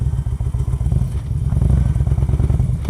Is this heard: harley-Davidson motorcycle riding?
yes